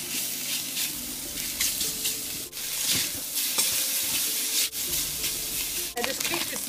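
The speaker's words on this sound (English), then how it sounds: "into a dry pan, we're going to fry this off over a high heat until it is well rendered down and quite crispy" Pork ribs fry in a dry pan over high heat, giving a loud, dense sizzle while the pieces are stirred and scraped at intervals, with a few brief drops in level; no voices.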